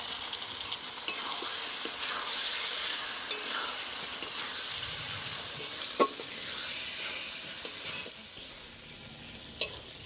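Pre-fried lentils (dal) frying in spiced oil that has released from the masala, stirred for a festive khichuri, with a continuous close sizzle and sharp scrapes and taps of the spoon against the pot, no talk.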